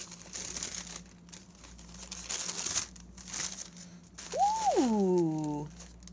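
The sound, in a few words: paper crinkling while unwrapping a yarn subscription box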